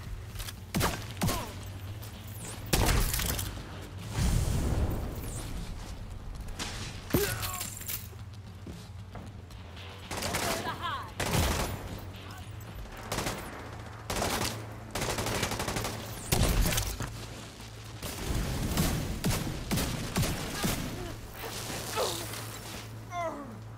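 Incoming gunfire in The Division 2 shooter, bursts of automatic shots and sharp impacts hitting in irregular clusters, loud and close, over a low humming drone with occasional game voice callouts.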